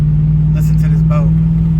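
Steady low drone from a 1991 Mercury Grand Marquis V8 while driving, a constant near hum with brief faint whistling tones over it and no talk.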